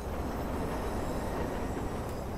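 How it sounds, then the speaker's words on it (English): A train passing close by in the video game Watch Dogs, a loud continuous rumble and rattle of rail cars filling the whole short stretch without any voices. "Look at the train!"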